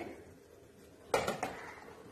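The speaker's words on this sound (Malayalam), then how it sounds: "ഞാൻ മറ്റൊരു അടുപ്പ് കത്തിച്ചതിന് ശേഷം ഒരു ചട്ടി വെച്ച് കൊടുക്കാൻ പോവാണ്" A metal pan is set down on a lit stove before roasting chutney ingredients, making a few quick clanks and rattles in a quiet kitchen, close and fairly soft, with no talk.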